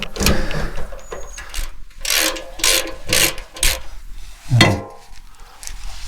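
A ratchet undoes M10 bolts on a VW Transporter seat base, close up, in repeated bursts of quick clicking and grinding strokes separated by short pauses.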